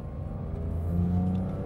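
A Porsche 991 GT3 engine with sports exhaust rumbles low and then builds in pitch as it revs and accelerates through manual gear shifts, steady and close with a deep exhaust tone.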